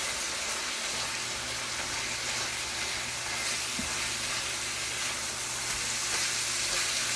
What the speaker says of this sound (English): let's get this frying and we'll be right back.